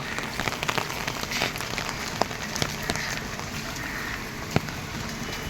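Heavy rain pours down outside in a village, a dense continuous hiss with scattered sharper drop hits on surfaces, steady and fairly loud throughout.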